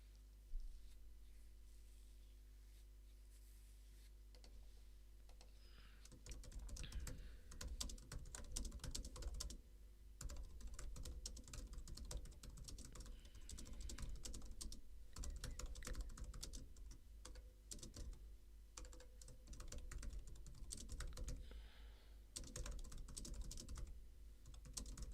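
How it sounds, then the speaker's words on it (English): Fast, steady typing on a computer keyboard rattles close by for about twenty seconds, dense irregular keystrokes over a low hum after a quiet start. "Sorry for the rattling of the keyboard."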